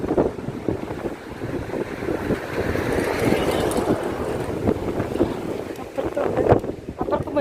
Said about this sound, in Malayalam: കയ്യിൽ നിന്ന് ഫോൺ വീഴുന്നു തോന്നുന്നുണ്ട്, അമ്മാതിരി കാറ്റ്